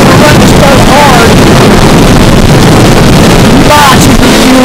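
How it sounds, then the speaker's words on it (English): A 2006 Angler 2600 boat with twin 225 hp engines runs hard on the water. Loud, steady engine drone is mixed with heavy wind buffeting and water spray, and a voice is briefly audible under the roar near the end. "now I'd like to run this boat hard"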